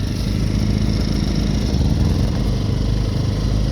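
Two paralleled Ryobi generators joined with a Firman parallel kit run loudly and steadily as the engines speed up, a dense continuous engine drone close by.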